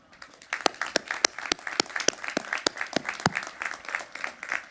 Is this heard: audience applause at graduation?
yes